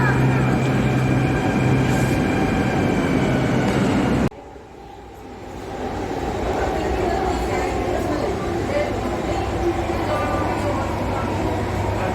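Metro train at Balapur metro station in Delhi, a steady loud rumble of rolling stock with a sudden drop as doors or cars pass, then platform noise building again; voices murmur in the background.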